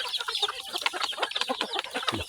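Backyard farm chickens of mixed ages, hens and young birds, cluck and cackle continuously in a busy overlapping chorus at close range, with no talk.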